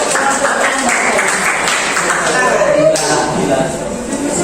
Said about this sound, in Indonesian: Kita berikan tepuk tangan aplaus untuk